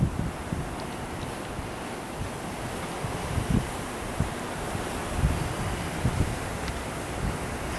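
Storm wind in Laughlin, Nevada rushes in a constant broad roar, punctuated by low thumping buffets of gusts hitting the microphone throughout, with no talking.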